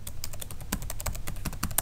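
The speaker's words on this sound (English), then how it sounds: "as soon as I type the right password" Rapid, close keystrokes on a computer keyboard as a password is typed, a dense run of crisp clicks with no one speaking.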